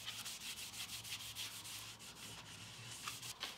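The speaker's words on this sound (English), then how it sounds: "So I'm gonna do a quick wipe down" A cloth rubs over an old wooden 1980s farmhouse-style furniture piece in quick, repeated strokes, a soft, faint, steady scrubbing rhythm with no voices.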